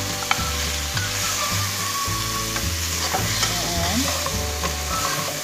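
Boiled lamb meat is stirred in a frying pan for an Arabic machboos dish, with steady scraping and sizzling throughout, loud and close, and a short spoken word near the start.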